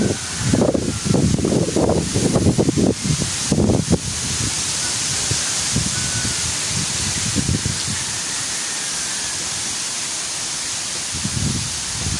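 Strong wind gusts roar and buffet loudly in bursts under dark clouds, swinging coconut palm leaves, then settle into a steadier rushing blow with occasional gusts.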